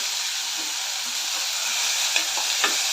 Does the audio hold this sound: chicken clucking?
no